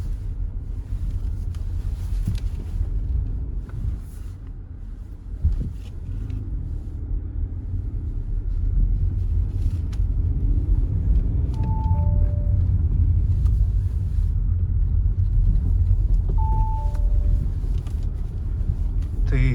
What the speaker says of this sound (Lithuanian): pajuda automobilis iš vietos kuo puikiausiai.